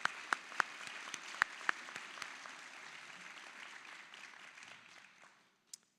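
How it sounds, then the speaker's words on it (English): A round of applause at a spring convocation, broad clapping from a crowd with a few sharp, close hand claps standing out early, fading out before a final lone clap. "another round of applause"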